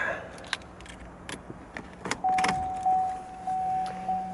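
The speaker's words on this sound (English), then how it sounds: "If I just take the key and put it into the ignition." Car keys jangle and click into the ignition of a car with cruise control and satellite navigation, a few sharp metallic taps, followed by a steady electronic warning chime pulsing inside the cabin.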